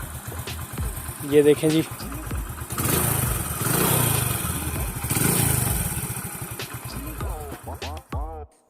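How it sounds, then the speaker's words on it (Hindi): A Honda 100 Pridor motorcycle idles with a steady, even engine putter close by, while someone talks briefly over it. "हम आपको जो दिखा रहे हैं ये इस वक्त मोटरसाइकिल स्टार्ट है।"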